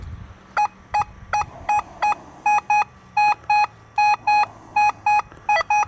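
A Nokta Legend metal detector sounds over a chunk of metal slag on state land, giving a run of sharp, evenly pitched beeps in quick pairs and singles with little else around them.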